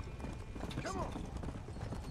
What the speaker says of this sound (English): I am riding my fire horse.